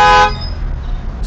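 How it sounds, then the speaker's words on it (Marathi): A car horn gives one short, loud, close honk that cuts off quickly, leaving low road rumble behind. "तर त्या व्हिडिओमध्ये हॉर्न ऐकू येत होता,"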